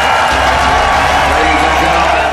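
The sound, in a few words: spectators cheering and applauding a grappling match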